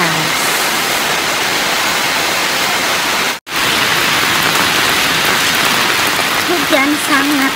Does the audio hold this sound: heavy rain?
yes